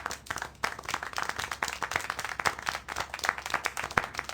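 Rapid, dense clapping in a video game fills the clip, like a small burst of applause, steady and fairly close with no voices.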